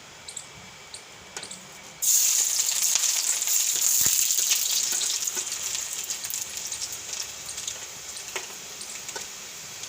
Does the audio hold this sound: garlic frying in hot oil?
yes